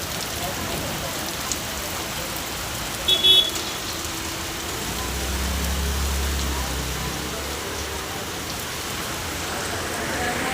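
Heavy rain falls steadily throughout, a dense broadband hiss of drops on surfaces, with a faint vehicle rumble passing underneath midway and a brief toot-like sound near the start.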